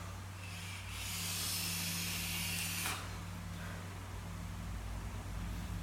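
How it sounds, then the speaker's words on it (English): Air drawn through a TFV8 Baby Beast vape tank on a Smok Alien 220W kit makes a soft, airy hiss that swells for a couple of seconds, then fades to a quiet background. "It's a nice airy draw on this tank."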